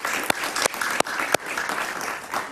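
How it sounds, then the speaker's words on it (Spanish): Studio audience applauding on a Spanish-language talk show, loud sustained clapping broken by a few sharp close claps, with no talk over it. "Un aplauso para ellos, por favor."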